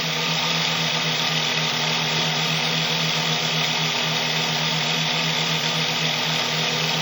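A small 6-pole, 2-coil electric motor runs at 24 volts, a steady whirring hum with a constant tone, close and continuous throughout with no talk.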